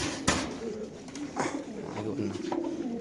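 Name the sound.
racer pigeons cooing in cages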